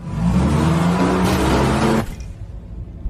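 A decontamination vehicle drives off, its engine loud and close with a revving roar that cuts off abruptly, leaving a faint low rumble.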